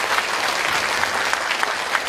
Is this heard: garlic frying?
no